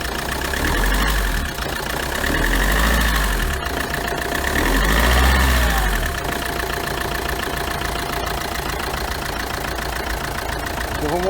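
Car engine idling steadily after its ribbed and idler pulleys were replaced, a close continuous low rumble with a faint ticking texture and no clear extra noise.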